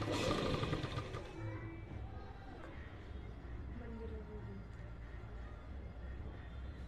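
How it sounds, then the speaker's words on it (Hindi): A sewing machine stitches along the edge of a salwar bottom, its fast, even whir running steadily and fairly quietly after a brief louder handling noise at the start. "इस किनारी पर सिलाई लगाएंगे"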